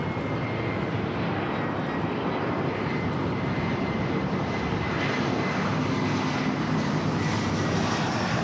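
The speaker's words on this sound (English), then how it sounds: "Air Tahiti Nui Dreamliner." Air Tahiti Nui Boeing 787 Dreamliner airliner engines at Los Angeles International Airport, a steady broad roar holding loud and unbroken throughout with no voices.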